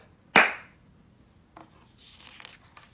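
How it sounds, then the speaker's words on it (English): One loud, crisp handclap cracks out close by, with a short ringing tail, then only faint rustling and soft shuffling follow, with no voices. "Hands clap."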